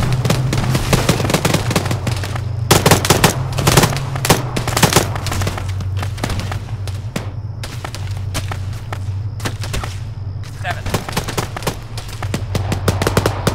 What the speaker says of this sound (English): Laying down a base of fire